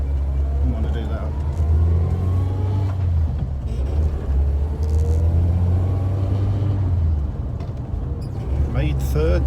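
A 42-year-old Austin Allegro pulls out onto a main road, its engine a steady low rumble that rises as it accelerates from inside the cabin, with someone talking over it throughout.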